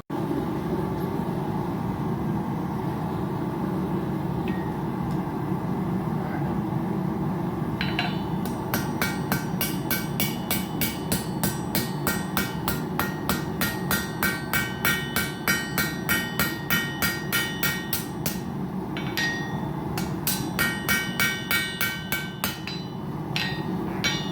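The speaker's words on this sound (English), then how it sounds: "I'm going to hammer on that spine side" Rapid, steady metallic hammer blows on the spine of a titanium knife, ringing out close by for a long stretch, with a hum of machinery underneath.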